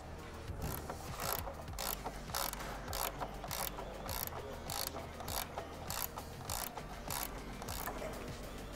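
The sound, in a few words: tightening bolts on IndyCar aeroscreen with ratchet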